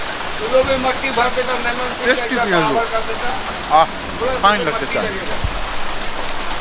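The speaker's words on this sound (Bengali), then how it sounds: "খুব বৃষ্টি হচ্ছে বাইরে" Heavy rain patters steadily on a surface while people chat nearby over it.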